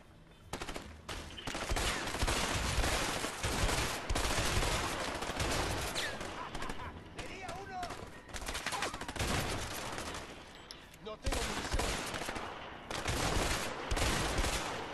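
Dense gunfire in the video game A Way Out, with sustained bursts of automatic shooting that rattle almost continuously and pause only briefly.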